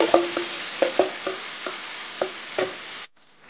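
Marinated mutton sizzles in oil in a kadai for a mutton curry, a continuous hiss broken by about ten sharp clacks of a spatula stirring, close and loud, then cut off suddenly near the end.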